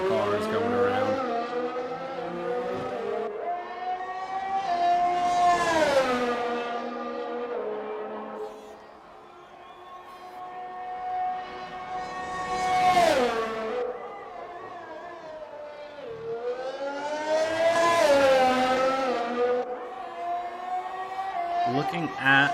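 Race cars circling Monza in a racing video game, engines revving up and dropping in long swelling sweeps as cars pass by one after another, loud and continuous under a voice talking throughout.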